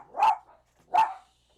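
A dog barks twice, two sharp, clear barks about three-quarters of a second apart, fairly close, with nothing else heard around them.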